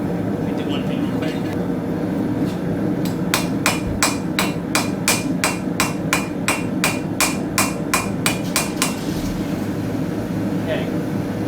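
A hammer strikes a rivet on forged knife blade tongs in a quick, even run of about sixteen sharp metallic blows, close and ringing over a steady background hum.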